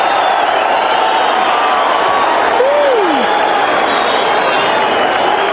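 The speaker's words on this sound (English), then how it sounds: "the crowd on its feet." Boxing arena crowd on its feet at the end of a round in a heavyweight bout, a dense continuous roar of cheering and applause throughout, with a brief whistle near the middle.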